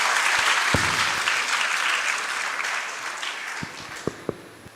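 An audience at the Prajna 2025 educational symposium applauds loudly to welcome a school principal. The clapping is dense and sustained, fades gradually near the end, and a few sharp thumps and knocks are heard close by.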